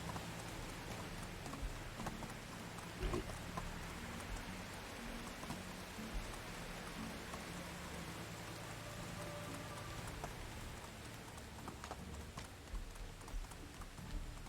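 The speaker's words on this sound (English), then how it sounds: "It's raining pretty hard" Heavy rain pours steadily in the medieval world of Medieval Dynasty, a dense continuous hiss of drops on the ground, with faint rhythmic hoof clops moving underneath.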